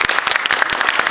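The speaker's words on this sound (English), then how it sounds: "you may clap" A small audience claps to welcome a guest speaker to the stage, a brief, close burst of quick, distinct hand claps.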